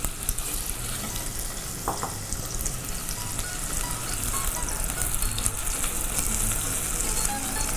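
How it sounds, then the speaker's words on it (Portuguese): Chopped onion frying and sautéing in a pan while a pumpkin gnocchi dish with braised collard greens is prepared, giving a steady close sizzle and crackle that holds throughout with no talking. "aqui a gente já vai entrar com a nossa cebola, para ela ir fritando e refogando"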